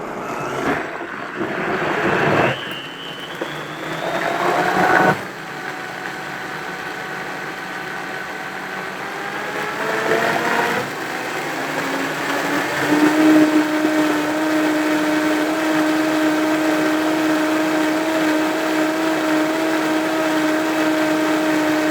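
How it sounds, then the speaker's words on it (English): A kitchen blender whirs through pasta sauce, its motor starting in short pulses, then rising in pitch and settling into a steady, loud, continuous drone that runs uninterrupted to the end. "I'm just going to give this a blend here really quick."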